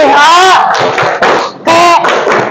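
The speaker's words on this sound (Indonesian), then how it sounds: "Kasih tepuk wow untuk kelompok 1." Rhythmic group clapping and loud shouted chant bursts fill a classroom as students cheer for a presenting group, in two close, energetic rounds with a brief lull between them.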